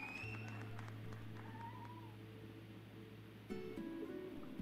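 A cat meows over steady background hum and noise, a few short mewing calls at moderate distance, with a call-in radio show running underneath.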